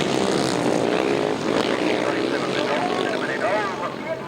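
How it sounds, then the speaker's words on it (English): A pack of 500cc solo grasstrack motorcycles roars off the start at a 2004 meeting in Biddenden, with a continuous loud, buzzing engine drone and a commentator talking over it. "Revs rise, tapes fly, here they come. It is 500cc solos again."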